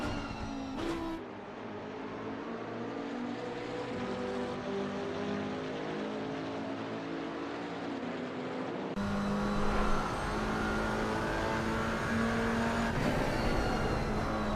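GT4 race cars at Brands Hatch roaring and revving on track, engines droning loud and steady with pitch shifts as cars accelerate and pass, a sharper surge near the middle.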